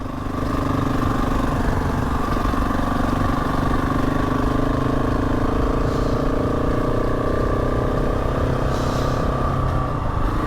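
A motorbike rides along a narrow road beside a steep gorge, its engine a loud, steady drone held close and constant throughout, with no speech.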